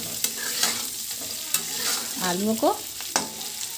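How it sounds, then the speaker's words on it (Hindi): Spiced potatoes fry in a kadai for aloo dam biryani, with a steady sizzle under several sharp spoon-and-pan scrapes and stirring knocks. A brief spoken phrase is heard near the start. "अब इसे हम अच्छी तरह से फ्राई कर लेते हैं"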